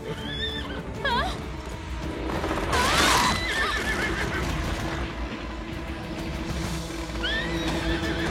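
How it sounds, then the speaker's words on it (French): A cartoon unicorn whinnies several times in short, rising squeals over rapid hoof clatter, with a louder burst midway and more neighing near the end, amid busy animated sound effects. "Cinder, essaie de l'enlever en tapant des sabots."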